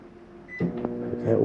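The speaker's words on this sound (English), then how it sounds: "Self-explanatory microwave." A microwave oven in a 2024 Flagstaff Microlite 25BRDS travel trailer hums with a low steady drone after a soft click, close by, lasting just over a second.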